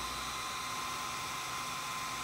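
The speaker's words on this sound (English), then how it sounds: "And then I'll drill it out." Small high-speed drill boring into a printed circuit board, a steady loud whine with a thin whistling tone, constant and uninterrupted throughout.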